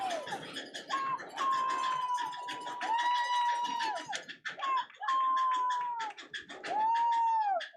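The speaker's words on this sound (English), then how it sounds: "you can hear this crowd not giving up on the Colts" Spectators at an 8U youth football championship cheering and shouting, with children's high-pitched yells and whistles rising in bursts over a fairly faint background.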